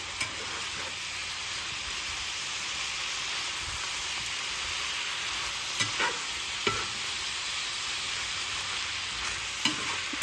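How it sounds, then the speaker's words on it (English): Steak simmering in sauce with bone broth in a pan is stirred, giving a steady, close sizzle with a few sharp utensil clicks against the pan and no voices. "Make sure it all gets mixed in really well."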